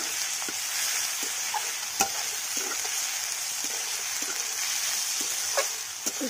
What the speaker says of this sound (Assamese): এইখিনি অলপ ভাজিম মছলাৰ কেঁচা গন্ধটো নাযাকলৈকে